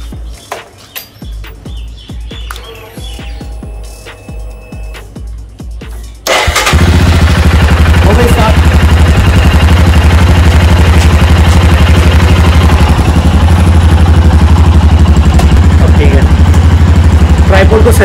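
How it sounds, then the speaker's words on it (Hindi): A Royal Enfield Himalayan motorcycle cranks and fires up after quiet clicking and shuffling, then settles into a loud, steady, close idle with a thumping single-cylinder rhythm that continues to the end. "अब बाइक को स्टार्ट करके देखते हैं, ठीक है, बाइक स्टार्ट होती है कि नहीं होती है।"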